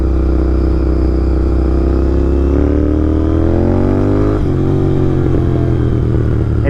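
A GT650 motorcycle rides along a beach at sunset, its engine droning steadily up close as the revs climb smoothly, drop at a gear change, then hold with wind noise.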